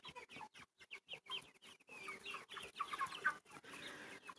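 Broiler chicks and chickens in a small farm flock clucking and peeping, a dense run of short, close calls overlapping one another with no talk.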